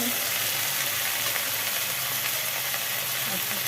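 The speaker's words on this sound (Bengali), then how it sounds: "শাকগুলো ভাজা হলো কিনা হয়ে যাবে হয়ে গেছে শাক ভাজা" Steady, close sizzling and crackling of leafy greens frying in a hot pan, continuous throughout with no talking.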